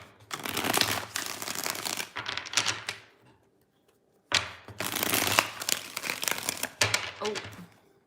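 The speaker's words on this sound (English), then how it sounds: "Let's get 3 shuffles here." Tarot cards being shuffled in two bursts of crisp riffling and flapping, close and fairly loud, separated by a brief silence, with no talk over them.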